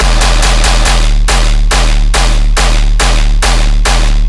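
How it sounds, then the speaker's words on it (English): Saturated bass guns, distorted electronic bass hits layered with a deep sub, fire in a loud, steady rhythmic stream of about a dozen punchy repeated blasts with no talking. "We're going to listen to the final saturator guns with the sub included."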